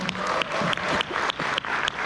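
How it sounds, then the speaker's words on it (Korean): Seminar audience at a resort in Cheonan applauding together, a dense, steady burst of many hands clapping close by, with sharper individual claps standing out, and no talking over it. "박수 한번 주십시오."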